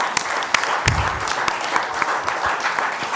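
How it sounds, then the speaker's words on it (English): At a city council meeting the audience breaks into applause, with scattered claps bunched densely together and a few louder hits up close. Low rumbles and bumps come through beneath. "A round of applause for him."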